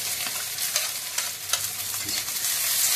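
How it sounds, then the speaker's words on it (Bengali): Chopped onions fry in oil in a pan, a continuous bright sizzle broken by repeated scraping stirs, close and fairly loud with no voices. "দিয়ে দিল পেঁয়াজ কুচি"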